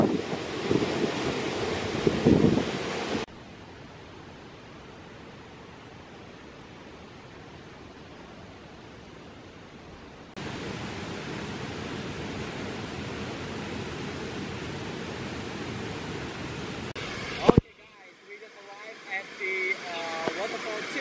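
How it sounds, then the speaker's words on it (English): The Manuaba waterfall gives a steady broadband rush, loud and close at first, then quieter, then loud again, before cutting to a softer wash with faint voices. "Waterfall 2, and it's quite nice here."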